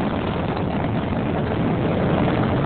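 Space Shuttle Atlantis main engines during launch from the Florida Space Coast, a steady, dense, continuous roar filling the whole span with no breaks or talk.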